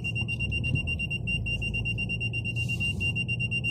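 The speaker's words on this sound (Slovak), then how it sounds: "A cúvacie senzory pípaj." Car reversing parking sensors beep in a rapid, even series of high, sharp tones over a low engine rumble inside the car, steady and fairly loud with no talking.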